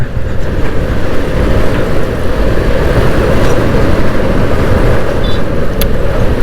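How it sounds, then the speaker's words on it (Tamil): Heavy evening road traffic surrounds a rider on a motorbike, a dense, loud, steady rumble of engines and tyres with wind noise, no voices, and a brief high horn-like chirp near the end. "ஸோ ஈவினிங் டைம் ரொம்ப டிராஃபிக்காக இருக்குது."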